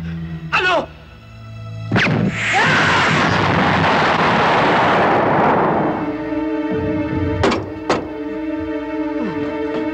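A laboratory blows up in a Tagalog action film, a loud roaring blast that swells and rumbles for about three and a half seconds, with sustained music tones and sharp vocal exclamations before and after.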